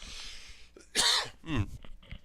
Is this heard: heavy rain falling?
no